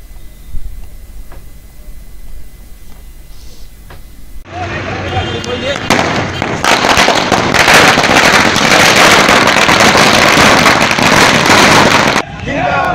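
Firecrackers burst in a rapid, loud crackling barrage at a Congress victory procession with drums, starting abruptly after a quieter stretch of crowd noise and running for several seconds before cutting off.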